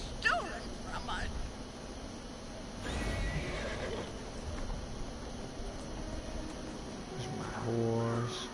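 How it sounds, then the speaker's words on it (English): A horse in the video game Neverwinter whinnies near the start, then hooves clip-clop under faint game ambience and a voice, with another louder whinny toward the end. "There's my horse. Riding on my horse."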